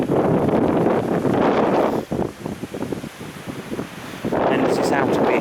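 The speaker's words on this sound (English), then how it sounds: "although it's suddenly got very windy" Strong gusts of wind buffet the microphone outdoors near fish ponds by Woodhead castle, roaring in two heavy bursts with a calmer, rustling lull between them.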